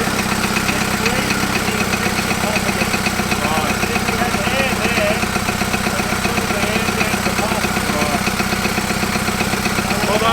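A Toyota Land Cruiser BJ42 LX engine idles steadily and loudly, a continuous close rumble running through the whole stretch with voices faintly mixed in.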